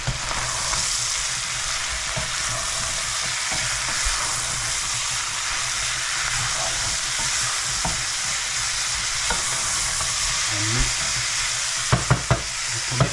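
Tomato sizzles steadily as it fries in a pan, with a constant hiss and occasional scrapes of stirring, then a few sharp clacks near the end, and no talking.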